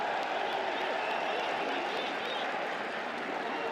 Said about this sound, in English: Crowd appreciating the efforts from